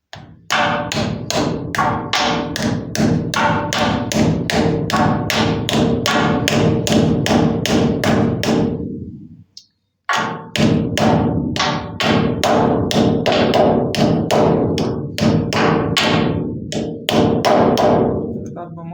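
Rapid, steady hammer taps on metal while building a 4-ton trailer body, dozens of sharp loud strikes in a fast even rhythm, pausing briefly midway before continuing.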